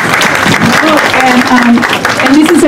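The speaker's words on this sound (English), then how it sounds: "So let's give them an applause." A crowd claps steadily for a few seconds at a plaque unveiling at the old Monterey County Jail in Salinas, California, the applause dense and continuous with voices mixed in.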